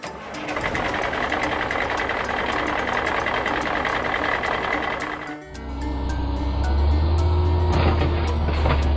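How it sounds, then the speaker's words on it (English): A dump truck engine rattles and churns steadily up close, then settles into a deeper, heavier rumbling idle for the last few seconds. "Green dump truck."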